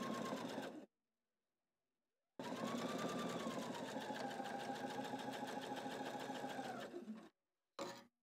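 A Husqvarna Viking sewing machine with a bias binder attachment stitches at a steady, rapid whir in two long runs broken by silence, then gives a short final burst close up.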